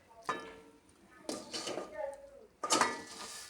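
Three separate metallic clanks and scrapes of a pan of coconut filling being lifted off the stove and set down, close and sharp, with a voice speaking briefly between them.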